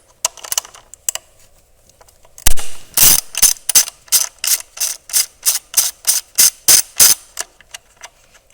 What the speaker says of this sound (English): now I'm going to remove these 10mm bolts that hold these ignition coils in place